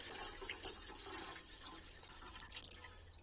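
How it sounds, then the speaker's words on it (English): River water dumped from a bucket into an ammo can at an outdoor camping hand wash station, a faint continuous splashing and gurgling pour lasting a few seconds with no talk. "I've got my bucket here that would have, river water in it or whatever to wash hands. I'm going to dump that in"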